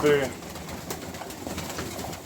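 Young pigeons coo softly in the background amid rustling and a brief voice at the start, with low murmuring calls throughout, in a loft with natural litter bedding.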